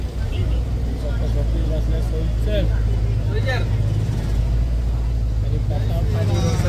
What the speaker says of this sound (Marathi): पूर्ण बसचा प्रवास आहे